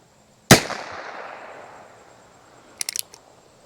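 A single sharp .22 rimfire gunshot from Federal Punch ammunition cracks loudly and rings out, followed a couple of seconds later by a quick burst of small clicks and pops; no talking.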